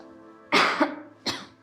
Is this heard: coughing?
yes